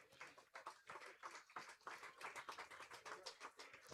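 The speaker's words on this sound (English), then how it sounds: "Golf clap from the audience." Scattered, polite golf clap from a small audience in the stands at a minor-league baseball game during a fireworks night, light irregular hand claps continuing steadily at moderate distance with no voices on top.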